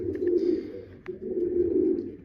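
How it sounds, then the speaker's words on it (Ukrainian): Close pigeons coo in low, throaty rolls inside a loft, two soft murmuring calls with a brief pause between them. "Зараз покажу більше там всередині голуби."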